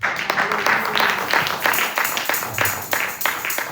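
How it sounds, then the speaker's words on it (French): A church congregation at a prayer day applauding and cheering for Jesus, dense continuous clapping with rhythmic pulses and voices mixed in, moderately close. "On acclame Jésus."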